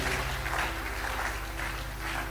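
A church congregation applauds and cheers the Lord, a dense continuous wash of clapping and voices that stays loud and steady throughout, with a low organ-like hum underneath.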